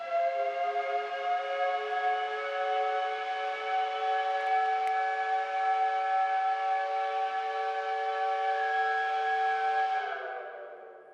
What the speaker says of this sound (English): my favorite sound in the world, the steam whistle that goes off once an hour here at Georgia Tech